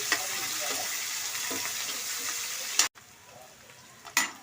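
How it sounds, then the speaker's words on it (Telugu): Chopped onions and green chillies sizzle steadily in hot oil for coconut rice, with scraping stirs against the pan, a brief clatter and sudden drop in the frying noise, then a quieter simmer and another scrape. "ఇప్పుడు ఉల్లిపాయలు పచ్చిమిర్చి వేసుకుందాం ఇప్పుడు కలబెట్టుకుందాం"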